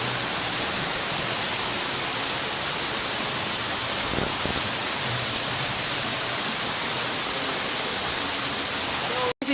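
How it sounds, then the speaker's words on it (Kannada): Ermayi waterfall roars as a constant, loud rush of falling water, a broad steady wash of noise filling the whole stretch with only a brief cut near the end. "ಇಲ್ಲಿದ್ದು ಒಂದು ವ್ಯೂ ನೋಡಿ ಗಾಯ್ಸ್, ಹೇಗಿದೆ ಅಂತ ನೀರು ಬೀಳುದು."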